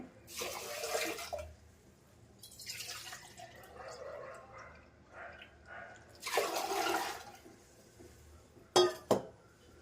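Water is poured into a pot for millet pongal in several splashing bursts with quiet gaps between them, ending in a couple of short drips and clinks.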